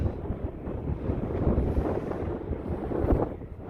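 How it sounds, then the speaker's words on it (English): Strong wind buffets the microphone outdoors beside an abandoned shopping center, a loud rushing, gusty roar that surges and eases without pause and has no speech over it. "really windy, so hopefully you can hear me"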